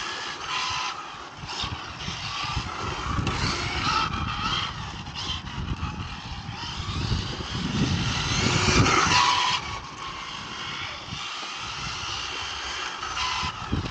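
A Hobao VTE2 RC car driving on a track, its small engine giving a continuous buzzing whine that rises and falls as it accelerates, peaks in the middle, then settles back.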